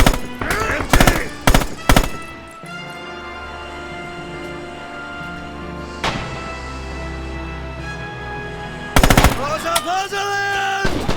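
Machine gun fire in the Red Orchestra 2 Stalingrad battle game: sharp rapid bursts open the clip, give way to a quieter stretch of battle ambience, then return loudly near the end, with occasional shouting voices.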